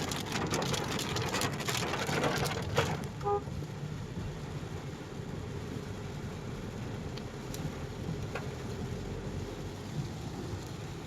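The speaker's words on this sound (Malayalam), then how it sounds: "നമ്മൾ തിരിച്ചു വന്ന വഴിക്ക് നമുക്കൊരു മഴയും കിട്ടിയായിരുന്നു" Rain falls during a car ride back from a resort stay, a steady hiss of drops drumming on the vehicle over a low road rumble, heavier at first and then settling into a constant patter.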